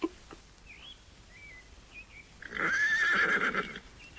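A horse gives a loud, close whinny lasting about a second, rising and shaking, after a few faint bird calls in a quiet outdoor setting.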